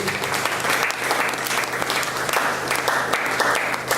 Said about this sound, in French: alguém pode aplaudir a palavra de Deus?